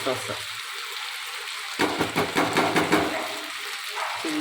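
A pan of food sizzles as chilli sauce and red chilli go in, a close frying hiss with a burst of busier crackle and stirring in the middle, while someone talks over it.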